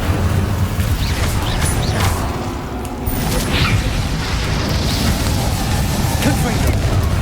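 Incendio fire spell cast in Hogwarts Legacy, a dense, roaring burst of game effects with heavy low rumble and crackle that holds loud and steady throughout, dipping briefly in the middle.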